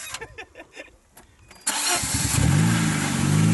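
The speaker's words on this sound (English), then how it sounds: "It's just a silent running engine, actually, it's still going." A Fiat Panda 4x4's engine starts with a sudden roar and settles into a steady, loud idle, following a moment of quiet rustling.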